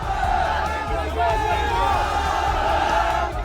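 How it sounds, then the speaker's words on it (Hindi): A crowd marching along a street in Tonk, chanting slogans in unison, a loud, continuous mass of voices with a rhythmic rise and fall and steady low rumble, heard close. "टोंक की सड़क पर ऐसे ही नारेबाजी करती हुई ये भीड़ निकली"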